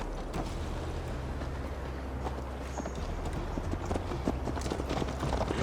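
Horse hooves clip-clop steadily while riding toward Tamworth in the Assassin's Creed Valhalla medieval England setting, a continuous rhythmic trot over a dense low rumble of the ride, fairly close and sustained throughout.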